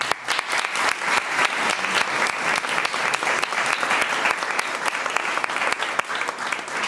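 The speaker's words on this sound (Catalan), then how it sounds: "un fort aplaudiment per al company Gerard" An audience at a municipal election candidacy presentation applauds, a dense, sustained burst of clapping from many hands that fills the room evenly for several seconds.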